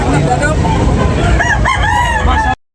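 Roosters crow at a crowded chicken market in Tabunok, Talisay, amid a loud market din, with overlapping calls and a dense wash of noise and voices.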